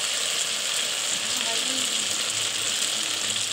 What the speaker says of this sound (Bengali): এই যে মশলা কষে আসলো